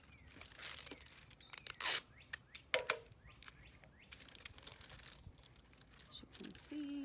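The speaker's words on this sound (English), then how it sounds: "and I'm gonna tape it in." Tape ripped and pressed around a cover over a solar oven opening, with a few sharp tearing bursts and light crinkling of foil or plastic, close but fairly quiet, amid pauses and soft handling noises.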